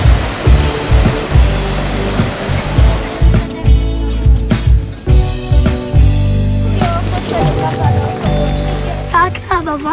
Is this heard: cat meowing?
no